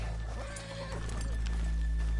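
Horses whinny in Red Dead Redemption 2, a long neigh rising clearly near the middle over a steady game ambience with faint hoof clatter.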